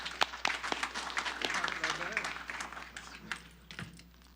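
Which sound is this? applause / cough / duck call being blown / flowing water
applause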